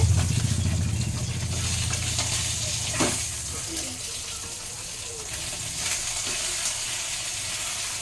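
Three fish heads frying in hot oil in a home kitchen, a soft steady sizzle with a louder burst at the start and occasional spatters and utensil taps.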